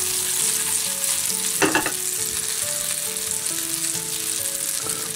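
Butter heats in a pan before crayfish tails go in, giving a steady close sizzle with one short burst of clatter midway and faint background tones.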